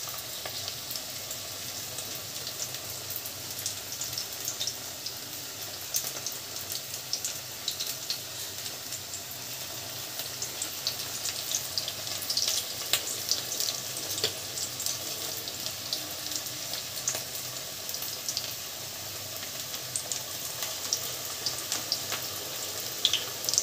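Large potato pieces frying in hot oil in a home kitchen for fana bhaat, giving a steady close sizzle and crackle that runs without a break, with faint clinks from turning the pieces.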